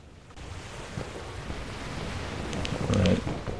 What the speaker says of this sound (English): The waves are so loud.